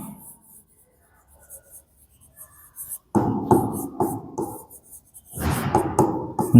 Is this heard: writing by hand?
yes